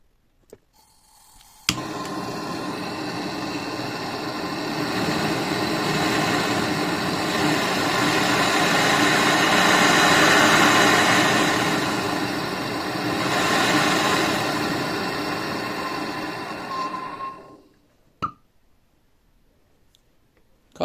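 A Mapp gas portable welding torch lights and burns steadily, a loud continuous roaring hiss running for about fifteen seconds before cutting off, followed by a single sharp click.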